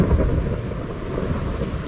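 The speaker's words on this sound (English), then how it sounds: "and a thunderstorm started" A thunderstorm in the video game Minecraft rolls in as a loud, deep rumble of thunder with rain hissing beneath it, continuous and close, and no one speaking.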